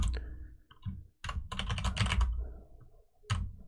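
Quick bursts of clicking keystrokes as code is typed on a computer keyboard, with irregular clusters of taps and short pauses between them, close and clear with no talking.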